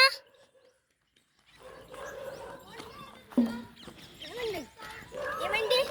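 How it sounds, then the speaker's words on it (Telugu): A dog makes a few short barks and whimpering yelps amid background noise and voices, close by and irregular. "అదే మా కుక్క బన్నీ."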